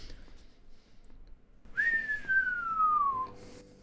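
A single person whistles one long, clear falling note for about a second and a half, close and distinct over a quiet room background.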